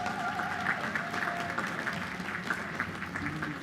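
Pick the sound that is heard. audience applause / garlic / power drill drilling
audience applause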